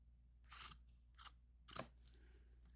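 Scissors snip through denim jeans fabric while a print toy for a gel plate is being made: four quiet, separate crunchy cuts spaced about half a second apart, close up, with no talking.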